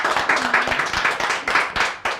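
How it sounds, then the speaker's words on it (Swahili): An audience claps at a lively gathering, a thin scatter of sharp, uneven hand claps bunched in quick bursts, fairly close and loud, with no talk over them. "Haya makofi."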